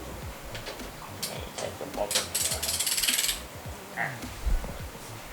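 The oil drain bolt on a 2022 GPX Drone motorcycle is tightened after an oil change, with metallic ratcheting clicks and tool clatter up close, building into a dense run of clicks before easing off.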